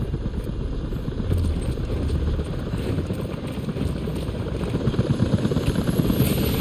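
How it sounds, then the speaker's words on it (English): Helicopter rotors in the video game Rise of the Tomb Raider thump rapidly and steadily, growing slightly louder as they draw nearer, a dense chopping roar with no voices. "helicopters are headed your way"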